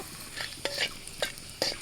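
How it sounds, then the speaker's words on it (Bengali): Bay leaf, cardamom, cinnamon and cloves fry in oil for an egg curry, with a soft sizzle broken by several short stirring scrapes and clinks, close and fairly quiet. "তেলের মধ্যে তেজপাতা এলাচ দারচিনি লবঙ্গ"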